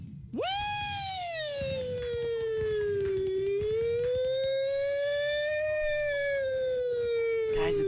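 A voice imitates a fire truck siren during Minecraft Skywars play, one long wavering wail that rises sharply, dips and swells again, loud and close with strong harmonics, holding steady for several seconds.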